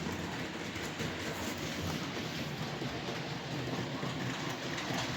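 A model railway Class 37 locomotive runs steadily along the track with a continuous rattling, clattering hum, close and even in level throughout, with no voices.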